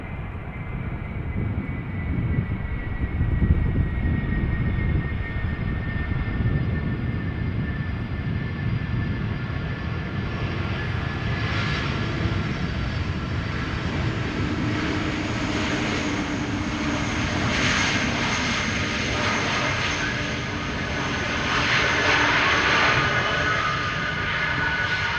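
An Airbus A340 airliner arriving from Madrid to land at Amsterdam Schiphol Airport, its engines a steady, loud roar that fills the whole stretch with a broad rumble and a shifting whine as it passes.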